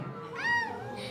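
A person imitates a peacock's call with a single short, rising-and-falling nasal wail, close and fairly quiet, over light room noise.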